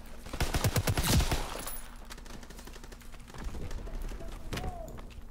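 Rapid automatic gunfire from a World War II era weapon in the online shooter Call of Duty WW2 sounds as a loud burst of repeated shots at the start. Sparser shots and game sounds follow, with a player's voice faintly present.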